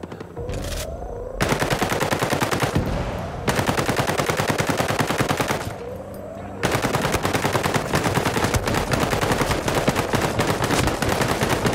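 Loud bursts of sustained machine-gun fire in Ghost Recon Breakpoint, three long volleys separated by short breaks, close and dominant with no talk over it.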